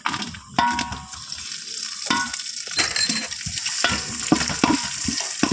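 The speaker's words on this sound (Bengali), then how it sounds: "এবার দুটোকেই ভালো করে ভেজে নিতে হবে" Cashews and raisins frying in a pan, a loud continuous sizzle with repeated scraping and knocking of a spatula stirring them.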